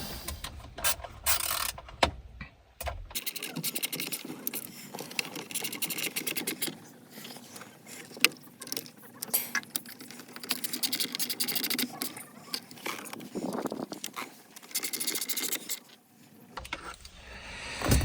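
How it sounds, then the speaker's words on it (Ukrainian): Bolts are unscrewed by hand while a Jeep Patriot Compass steering wheel is being replaced, giving quiet, close ratcheting clicks and scraping metal sounds in irregular bursts, with a pause of near silence early on. "відкручуємо назад наші ці болтики"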